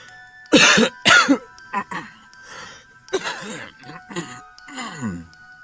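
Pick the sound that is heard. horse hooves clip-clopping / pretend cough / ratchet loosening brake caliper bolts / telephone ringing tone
pretend cough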